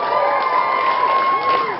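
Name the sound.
audience applauding and cheering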